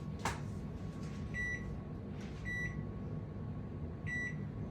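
A kitchen cooking timer being set sounds three short electronic beeps, spaced about a second apart, fairly quiet over a low steady hum of room noise.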